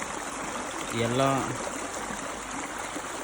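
Water pumped by a motor runs through an irrigation channel in a tomato field, giving a continuous, fairly close trickling rush, and someone speaks briefly over it.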